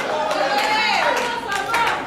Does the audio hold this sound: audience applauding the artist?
yes